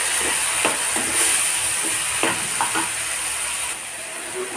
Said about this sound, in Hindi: अब इसमें हम डालेंगे टमाटर और इनको भी अच्छे से थोड़ा सा सेक लेते हैं।